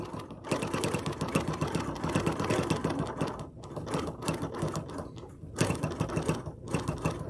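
A long arm quilting machine stitches a charm pack quilt, a rapid mechanical needle chatter running loud and near, pausing briefly twice before resuming, with no voices.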